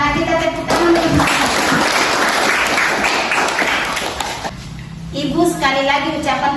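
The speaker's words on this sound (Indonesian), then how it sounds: "Kita tepuk tangan." A classroom of students claps together in a broad, sustained burst of applause lasting several seconds, then fades as a teacher's voice resumes; speech surrounds the clapping at start and end.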